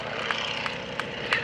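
A propeller airplane flying low at the 2011 Blue Angels Homecoming Airshow, a steady engine drone with periodic swelling pulses, fairly loud and continuous throughout.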